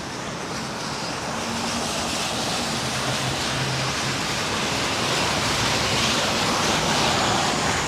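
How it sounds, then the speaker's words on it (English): Strong wind gusting through New York City streets during Tropical Storm Henri, a steady loud broadband roar that swells slightly over the clip, with no talking. "Yeah, the wind definitely picked up a little bit."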